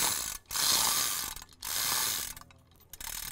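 A ratchet clicks in quick, loud bursts, three in a row with short pauses between them, as a camera tripod is tightened outdoors in a prairie cemetery.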